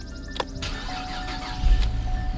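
A 2007 Cadillac STS engine started up: a couple of sharp clicks and a brief starter whir, then the engine catching into a low, steady idle rumble close by.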